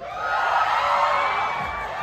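Live crowd at an Independence Day show yelling and whooping together at the host's call, a loud sustained roar of many voices lasting the whole moment.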